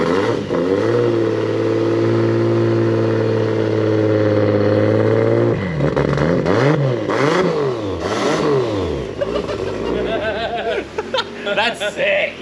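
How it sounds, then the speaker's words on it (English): Toyota JZX100 drift car engine revving in a workshop, first holding a steady high rev, then a run of sharp throttle blips rising and falling in quick succession, loud and close, with people chuckling and talking alongside. "Give it another couple blips."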